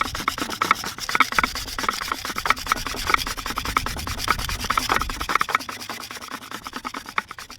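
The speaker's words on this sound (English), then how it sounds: "They scrape the ice, so they'd get something and... You scrape the ice." Ice is scraped by hand for homemade sky juice, a Caribbean bag juice or rum punch, in quick rhythmic rasping strokes that run steadily up close, with no talking.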